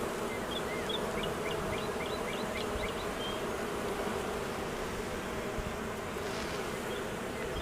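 Honey bees flying in and out of a healthy backyard hive, a continuous close buzzing drone with a few higher chirping insect or bird calls early on, no talking.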